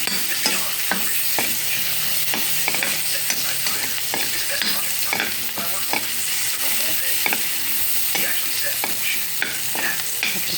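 Onion and garlic sautéing in a pan for pinakbet, a loud, continuous sizzle punctuated by regular scraping stirs of a utensil against the pan, close up with no voices.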